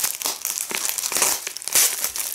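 Crinkling of a packet of honeybush tea, a close, crisp run of rustles and crackles played alone.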